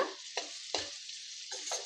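Bitter gourd curry frying uncovered in a pan is stirred with a few quick scraping strokes over a faint, steady sizzle, quiet and close.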